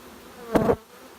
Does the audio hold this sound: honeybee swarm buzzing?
yes